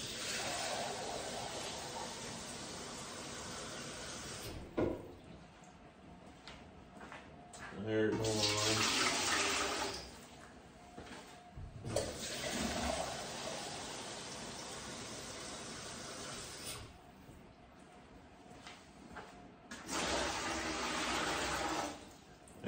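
Kitchen tap runs to fill two cups of water for a fondant recipe: a steady hiss of flowing water in several bursts separated by pauses, with a voice talking at times.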